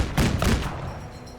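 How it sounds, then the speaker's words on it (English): A burst of gunfire from soldiers in the tactical video game Menace: two loud, close shots in quick succession, each with a short echoing tail, heard alone with no talking. "We could fire 2 shots here."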